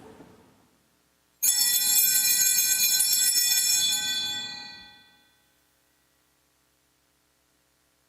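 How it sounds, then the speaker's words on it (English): Church bells ring for consecration at Mass in a single bright, loud burst of chimes that starts abruptly, sustains for a few seconds, then decays into silence. "they would look up when the bells rang for consecration, which sounded like this."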